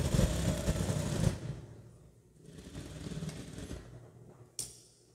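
A sewing machine backstitches seams on bias binding for a dress, with a loud, rapid mechanical whirring burst that stops, then softer intermittent running and a brief click.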